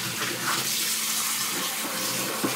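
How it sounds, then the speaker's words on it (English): Water pours from a tea kettle over a tea bag in a mug, a steady, close, hissing stream that runs throughout with little change. "So you just pop a little tea bag in,"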